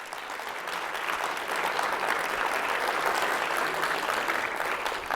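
Sustained applause from a large crowd at a national school drone race, a dense wash of clapping that swells slightly and holds steady throughout.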